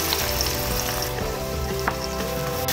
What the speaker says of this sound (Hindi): ऑयल जब हमारा अच्छी तरह गर्म हो जाए और ये प्याज जो हमने इस तरह बारीक चॉप कर लिए थे ये हम इसके अंदर डाल देते हैं